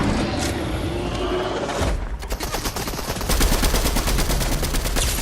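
Rapid automatic gunfire from Fortnite gameplay rattles in long sustained bursts, loud and close, following a stretch of noisy in-game action.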